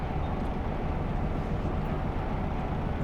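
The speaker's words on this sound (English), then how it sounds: "Now if we hold E, we start the engine." A truck engine in Euro Truck Simulator 2 runs as a steady, loud, low rumble that holds evenly throughout, with no voices.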